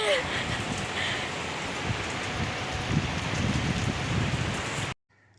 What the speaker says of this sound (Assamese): তাৰপিছতে আহি গ'ল বৰষুণ।